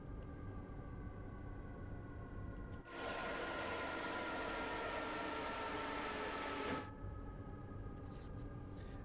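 A simulated Talent 2 electric passenger train in Train Sim World 3 runs with a steady low hum and faint tonal whine, broken by a loud burst of rushing noise lasting several seconds, then settling back to the quiet hum.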